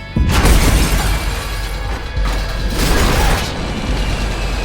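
A loud, sustained roar of crashing and rumbling noise from a blast inside a prisoner transport plane, with bursts of debris and mechanical clatter.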